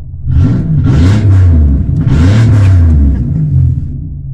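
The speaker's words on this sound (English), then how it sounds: "You gotta give it three revs." A 1992 Buick LeSabre engine revs three times in quick succession, each loud, close rumbling surge rising and falling with no talk over it.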